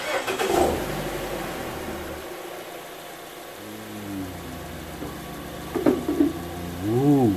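A 2013 Mazda 3 with a 2.0L engine cranks and catches after an oil change, settling into a steady idle with a couple of revving swells near the end; voices are faintly present.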